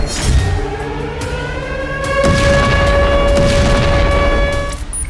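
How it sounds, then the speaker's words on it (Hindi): Loud, sustained rumble of a bomb blast in Tel Aviv, caught on a street security camera, with a dense low roar, tonal whine-like hum above it, and a surge in intensity midway that holds before tapering off. "तेल अवीव से आई सीसीटीवी फुटेज में बम विस्फोट नजर आ रहा है"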